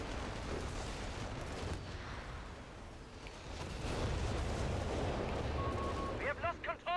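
Gunfire and artillery from the Company of Heroes 3 strategy game on the 4v4 Monte Cavo map, a dense continuous barrage of rumbling blasts and shots, loud throughout, with sharp rapid bursts near the end.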